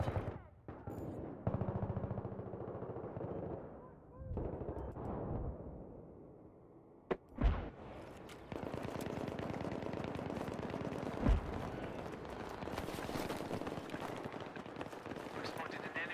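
Machine gun fire in the video game Battlefield 3, a long, steady, dense burst of rapid shots filling most of the clip after scattered earlier noises and a sharp bang, with a voice briefly heard.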